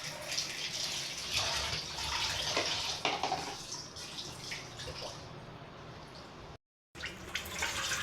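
Tap water runs steadily in a kitchen sink while rice is being washed, a continuous close splashing gush with small clatters, briefly cut by a moment of silence near the end.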